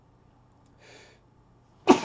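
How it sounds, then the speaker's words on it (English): A single sharp sneeze from one person, preceded by a soft intake of breath and then a sudden loud burst near the end. "sneeze."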